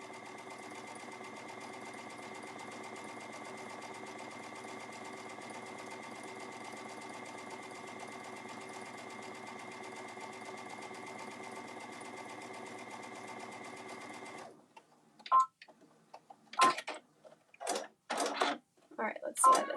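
A sewing machine runs a long steady seam along a bag, its rapid even stitching loud and continuous for most of the stretch, then stopping as a voice speaks in short bursts.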